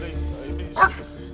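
A police dog gives a short bark amid a low rumbling background during a night-shift arrest, with people talking around it.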